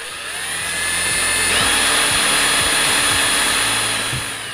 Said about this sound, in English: Now take your drill where the holes are and drill pilot holes for that pin to go through.